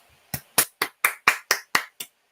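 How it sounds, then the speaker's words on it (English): Applause for a presenter: eight sharp, close hand claps in a steady, even rhythm, then silence. "Let's clap for Isabelle."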